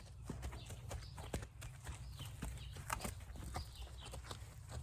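Hooves of a two-year-old mustang clip-clop in a steady uneven rhythm on the ground, close by, with faint outdoor ambience and a bird or two in the background.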